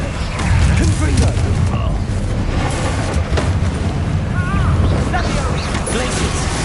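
Confringo fire spells burst in Hogwarts Legacy combat, loud booming impacts and crackling blasts in quick succession over a steady rumble, with a voice shouting spell names throughout.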